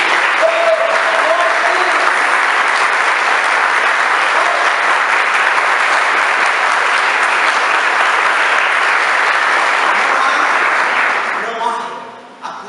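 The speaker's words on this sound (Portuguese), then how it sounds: "Um aplauso para Jesus Cristo." Church congregation applauding during a Sunday communion service, a loud sustained burst of clapping that holds steady for about eleven seconds, then tapers off and stops.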